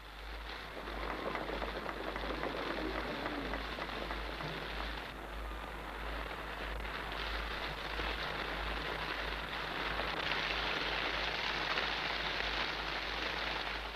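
Steady rain hisses and patters throughout on a waiting outdoor crowd in 1958 Australia, a dense continuous wash of drops without pause, fairly loud and close.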